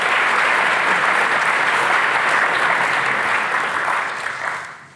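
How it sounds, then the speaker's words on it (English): A warm round of audience applause for a panelist at a sustainability expert panel, loud and dense throughout, tapering off at the end. "So give him a nice warm round of applause."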